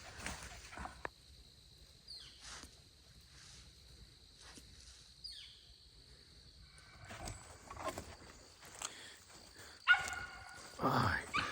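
Roscoe, a squirrel-hunting dog, barking at a treed squirrel in the woods: a few scattered barks at a distance, with rustling and faint voices nearby.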